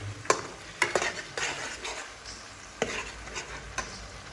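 Mutton and onions fried in a pot, a steady sizzle broken by sharp spatula scrapes and knocks against the metal, close up with no talk.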